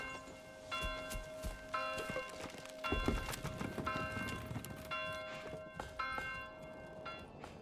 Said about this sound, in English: So the alarm bells is going.